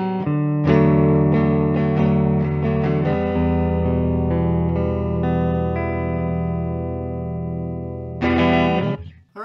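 A 1954 Gibson Les Paul Standard electric guitar rings out chords through an amplifier with effects, sustained and loud, then a fresh strum near the end.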